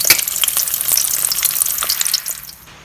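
Eggs fry sunny side up in a lightly salted pan, giving a close, steady crackling sizzle with scattered pops that quiets at the end.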